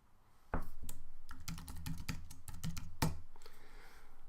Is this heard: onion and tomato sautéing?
no